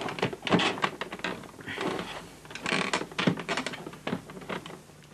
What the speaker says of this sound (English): This is awkward as well, putting the bag door back.